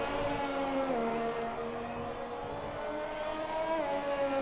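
Formula race cars in a racing video game, set at the Canadian Grand Prix, drone with layered engine whines that shift in pitch as they pass, a continuous moderate blend of several cars.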